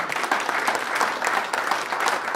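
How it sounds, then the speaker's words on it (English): Audience at a comedy magic show applauding four volunteers, a steady, full round of clapping from a crowd with no talk over it. "Give them all a big round of applause."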